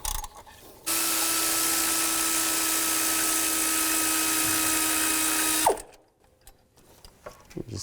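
A power tool with a 14mm socket spins out a bolt on the drive belt tensioner of a 2005-15 Nissan Xterra: a steady, loud mechanical whir lasting about five seconds, its pitch dropping as it stops, followed by quiet shop noise.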